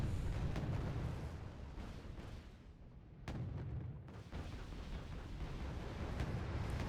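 Units firing weapons in the real-time strategy game Wargame: AirLand Battle, a dense continuous rumble of distant artillery and gunfire with booming thuds, one sharper blast standing out midway.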